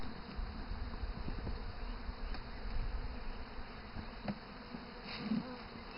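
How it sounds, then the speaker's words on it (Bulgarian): Honeybees swarm around hives at an apiary, a dense continuous buzzing hum close by with steady intensity, occasional louder passes as individual bees fly near. "Ето тук му ще снимаме и пчелина."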